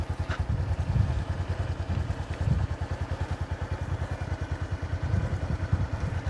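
A motorcycle carrying two riders chugs along a rough, wet dirt path, its engine a steady, pulsing low throb with occasional clatter, close and continuous throughout.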